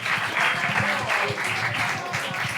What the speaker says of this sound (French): Quand c'est la première fois, on applaudit.